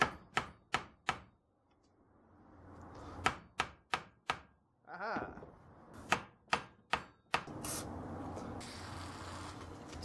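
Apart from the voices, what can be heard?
tapping a Toyota pickup brake caliper piston with a hammer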